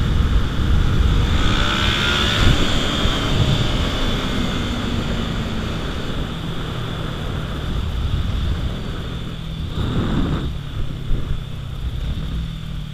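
A dirt bike engine hums and revs steadily throughout a stand-up wheelie, loud and close, with the throttle swelling briefly near the end and no voices.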